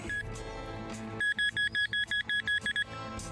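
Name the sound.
pinpointer metal detector beeping while digging for treasure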